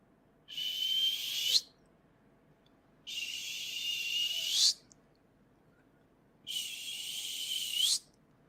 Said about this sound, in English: I was an hour into sleep when I heard a whistle.